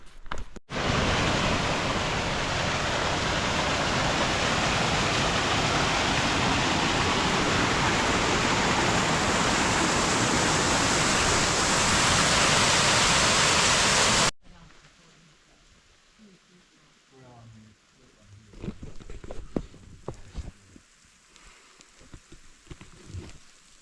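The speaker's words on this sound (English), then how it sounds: "as you can see, it's raining." Steady rain hisses loudly and evenly on a Pacific Crest Trail hike, then cuts off to quieter outdoor sound with scattered patter and light movement, and a person speaking near the end.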